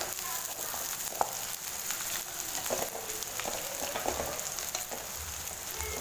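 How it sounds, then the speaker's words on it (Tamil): Onion, garlic and green chillies sauté in a pan for a no-tomato kulambu, giving a soft, continuous frying sizzle with faint scattered crackles and no talk. "வெங்காயம் பூண்டு பச்சை மிளகாய் பார்த்திங்கன்னா நல்லா வதங்கிடுச்சு"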